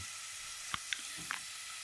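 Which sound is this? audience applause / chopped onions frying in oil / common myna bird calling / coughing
chopped onions frying in oil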